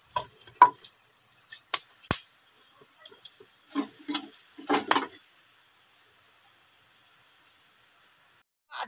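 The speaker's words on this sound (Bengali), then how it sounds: "মশলাটাকে তেলে একটু ফুটিয়ে নেব।" Bay leaf, dried chilli and whole garam masala frying in oil, a hissing sizzle with scattered pops and spoon scrapes, fading toward quiet near the end.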